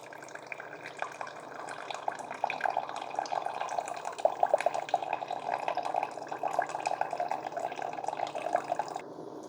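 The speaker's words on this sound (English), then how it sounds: "With the filter in it, I'm getting water leaking out around it." A Cuisinart SS-GB1 Grind & Brew Plus coffee maker brewing through a reusable K-cup filter gives a faint, steady trickle and patter of water, with water leaking out around the filter, continuing for several seconds before stopping abruptly.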